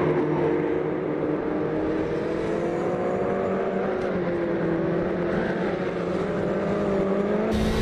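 A Ford Sierra Cosworth DTM race car in a racing simulator at Willow Springs holds a loud, steady engine drone throughout, its pitch wavering slightly as revs shift.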